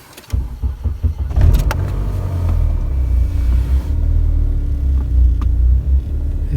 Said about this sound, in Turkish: Aracı bir çalıştıralım.